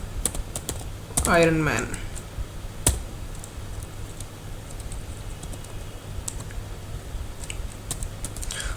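Typing on a computer keyboard, a scatter of faint, quick key clicks spread across the stretch, with someone speaking briefly near the start and low room hum underneath.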